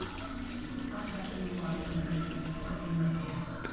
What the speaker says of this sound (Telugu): నేను 1 గ్లాస్ వాటర్ వేసుకుంటున్నాను